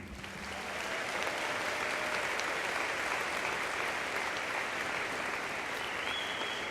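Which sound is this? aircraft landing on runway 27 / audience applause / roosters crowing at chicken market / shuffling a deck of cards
audience applause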